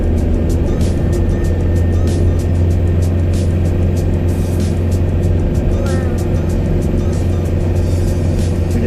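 A car engine in a video game drones steadily and loudly while it laps a shale circuit, its constant motor hum unbroken throughout.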